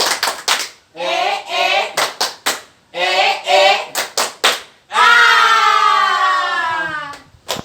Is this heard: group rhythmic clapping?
yes